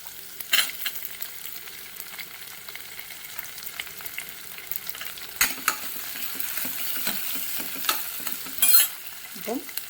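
Onion and garlic frying in a pan, a steady sizzle running throughout with the scrape and clatter of a spoon stirring, louder knocks of the utensil against the pan at a few points.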